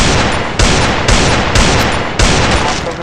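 Shotgun fire in a video game: four or five loud, heavy blasts spaced roughly half a second apart, each with a sharp onset and a long, dense tail that fades into the next.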